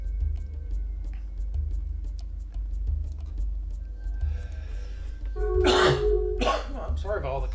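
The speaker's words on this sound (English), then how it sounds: "I'm sorry about all the coughs, guys." Coughing from someone talking over a BattleTech-style Megamek mech game in a dust storm scenario: ongoing speech with a sudden louder cough burst near the end, followed by more voice.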